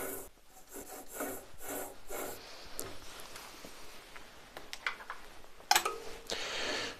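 Woodturning a wooden sphere box on a lathe, a tool scraping and rasping across the spinning wood in uneven bursts, with a sharper knock near the end, no talk.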